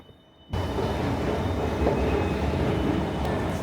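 Metro train in Rome, a loud steady rumble of wheels and carriage noise that starts abruptly after a brief quiet moment and continues unbroken.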